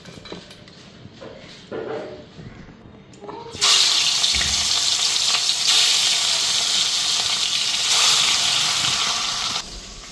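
Tap water gushes steadily into a sink while dishes are washed, a loud continuous rush that starts abruptly after quieter clinking and kitchen handling, then runs on without a break.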